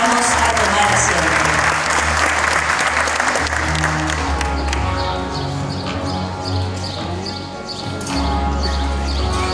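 Loud applause fills a school hall at a 2022 graduation ceremony for students of Escuela Enrique Zañartu Prieto; the clapping dominates the first few seconds, then thins under sustained tones and talk.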